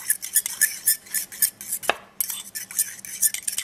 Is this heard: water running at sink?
no